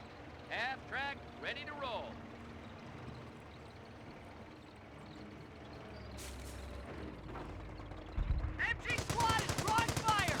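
A .30 cal machine gun firing in the Company of Heroes strategy game, a rapid rattling burst toward the end, preceded by quieter battlefield rumble and someone commentating over it.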